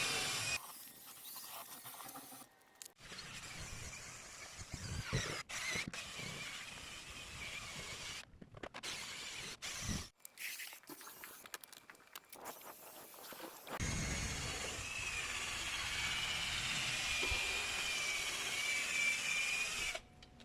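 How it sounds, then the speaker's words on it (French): An electric drill whirs in bursts during home renovation work, with pauses, footsteps and handling noises between runs, then a longer steady spell of drilling near the end, fairly close. "c'est parti pour la perceuse"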